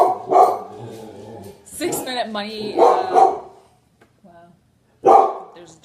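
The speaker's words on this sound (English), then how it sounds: "there's a dog outside" A dog barks outdoors in several short bursts, heard under and between a man's speech, moderately close and loud.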